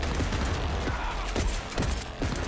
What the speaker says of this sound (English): you are in my line of fire, Jackie